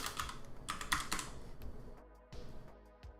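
Typing on a computer keyboard while writing an SQL query, with quick bursts of clicky keystrokes, a short pause, then a few more taps close to the listener.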